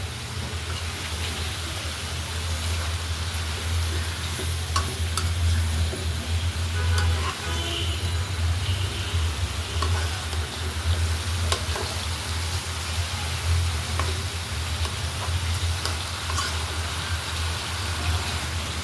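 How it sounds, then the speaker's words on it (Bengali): Chopped bottle gourd and spices frying in a pan, giving a steady, close sizzle with occasional scraping taps of a stirring spoon throughout. "একটু নাড়াচাড়া দিয়ে দিই।"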